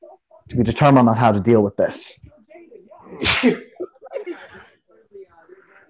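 A single sharp sneeze bursts out partway through a group conversation, set among steady stretches of close talking voices.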